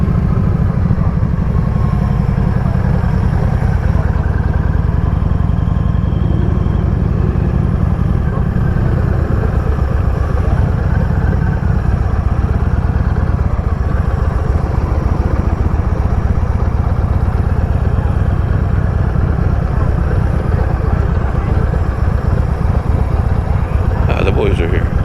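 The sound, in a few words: many motorcycles at a bike meet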